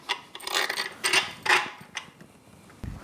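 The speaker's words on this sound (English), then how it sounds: "We'll get these torqued and then remove the lift and the harness." Wrench tightening long and short bolts on a Yamaha 225 outboard powerhead to 30 foot-pounds, giving a few close mechanical clicks and creaks in short bursts with pauses between.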